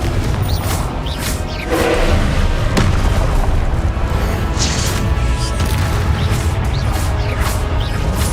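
Confringo blasting spell explosions in the video game Hogwarts Legacy, a loud, dense stretch of booming blasts and crashes layered over continuous game noise, with a few sharper bursts along the way.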